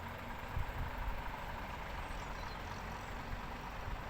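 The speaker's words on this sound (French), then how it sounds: "Un camion qui est beaucoup trop grand en plus." A large delivery truck idles as it maneuvers beneath apartment windows early in the morning, making a steady, low, continuous engine rumble with no change across the stretch.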